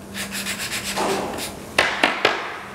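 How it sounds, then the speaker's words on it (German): Hand sanding scuffs the bonding surface of an industrial fiberglass (GFK) vehicle part in a cross pattern, with rhythmic rasping strokes and then a few sharper scrapes, close and fairly loud. "So, wir schleifen jetzt die zu klebende Fläche an. Und zwar im Kreuzschliff."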